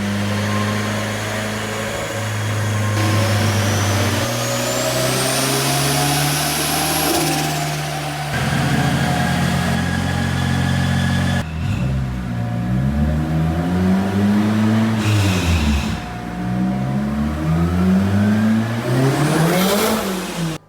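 A K24 turbo-swapped Nissan A31 Cefiro revs loud and close on a dyno, its engine climbing and falling through repeated pulls with a turbo whine rising at the top of each run.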